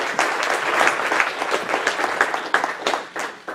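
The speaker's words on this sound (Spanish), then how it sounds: "Denle ese aplauso al Señor" A church congregation applauds during a Sunday sermon, a close, lively burst of many hands clapping with uneven pulses that rises and dips over a few seconds.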